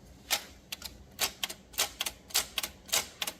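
Typewriter keys strike one after another on a machine whose escapement moves the typewriter along its resting carriage, about a dozen sharp, close clacks in an uneven rhythm, some in quick pairs, with no talking.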